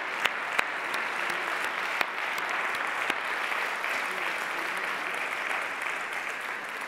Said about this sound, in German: Können wir bitte da auch einen ganz herzlichen Applaus?